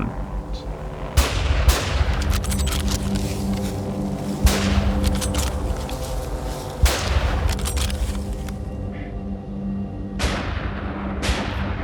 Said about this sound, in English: we managed to get a shot in